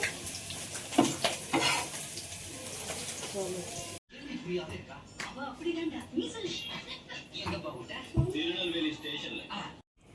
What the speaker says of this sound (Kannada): ರೈಸ್ ಆ್ಯಡ್ ಮಾಡಿ ಫ್ರೈ ಮಾಡ್ತಾ ಇದ್ದೀವಿ